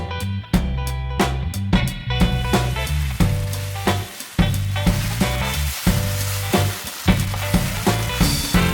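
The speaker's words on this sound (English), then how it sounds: "Now, throw in your meat and stir," Meat sizzles loudly in a hot pan while being stir-fried for stir-fried rice cakes. Close, steady frying hiss is punctuated by repeated sharp scrapes and clanks of a utensil stirring in a rhythmic pattern.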